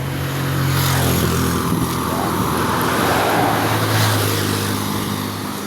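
Steady roadway noise from the Llanera highway, with continuous vehicle engine hum and rushing tyres, a passing vehicle swelling near the middle and end, fairly loud with no talking.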